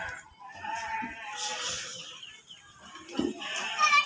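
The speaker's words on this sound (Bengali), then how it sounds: "এটা বন্য ছাগল" Wild goat bleating at a small zoo in Savar near Dhaka, heard as several short bleats mixed with other farm-animal and bird calls, while voices murmur in the background.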